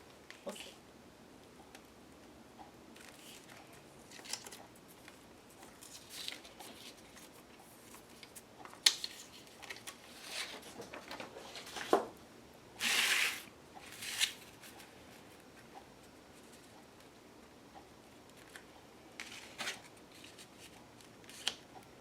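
Paper being cut with scissors for an altered book collage, heard as faint, sparse snips and rustles spread across a quiet room, with a few louder cuts in the middle.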